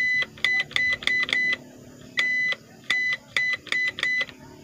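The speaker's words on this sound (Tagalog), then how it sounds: "nagpa-buzzer na siya." An electric planer that suddenly stopped working, under repair, gives off a sharp electronic buzzer beeping in short bursts, clustered in quick groups with brief gaps between, loud and close over faint background noise.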